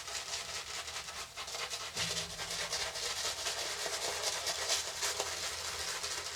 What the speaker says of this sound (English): So what I'm going to do now is lather up my face, because I'm actually going to do a second pass.